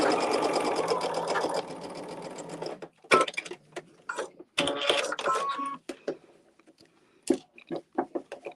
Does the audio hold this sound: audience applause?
no